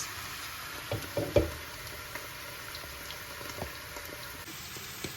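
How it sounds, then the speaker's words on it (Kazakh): Mushrooms hit hot oil: a steady, close sizzling hiss with scattered crackles and a few louder pops near the start, then a constant frying noise with no voices. "Енді қызып тұрған майымызға саңырауқұлағымызды саламыз."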